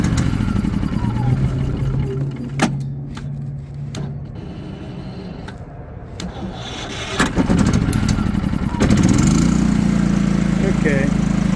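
A new FIRMAN WH03242 propane generator cranks on its electric starter and catches on its first startup, settling into a steady running drone near the microphone, with people talking over it.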